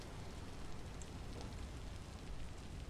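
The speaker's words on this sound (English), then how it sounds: "all it has been doing is raining." Steady rain in the Vintage Story video game, a dense, even hiss of falling water that continues unbroken throughout, with no voices.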